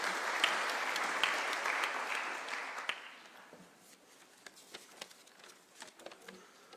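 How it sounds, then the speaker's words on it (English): Audience applause welcoming the Japanese ambassador at an international heritage conference in Africa, a dense burst of clapping that fades after about three seconds to a few scattered claps. "Let's welcome him with a clap."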